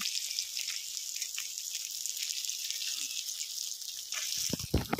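Fish fries in a pan at an outdoor picnic cookout, giving a steady hiss of sizzling oil that runs throughout, with a few clattering knocks near the end.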